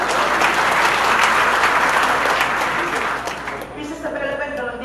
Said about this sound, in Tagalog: tuloy yung palakpak